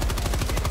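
Rapid turret machine gun fire in the video game Helldivers 2, a loud, close burst of evenly spaced shots in a fast rhythm.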